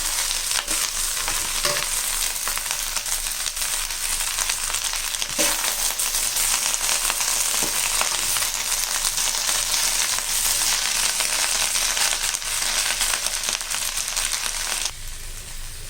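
Drumstick leaves and peanuts fry in a pan with a steady, dense sizzle and crackle, stirred throughout with faint scraping, loud and close, easing off near the end.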